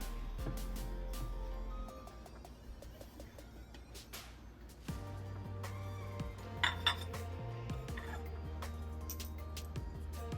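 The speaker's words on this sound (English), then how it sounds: "Let's get a slice of it right here." A knife cuts a slice of frosted coconut cake on a plate, giving quiet scattered clinks of cutlery against dishware and soft taps and scrapes over a low background hum, with no talking.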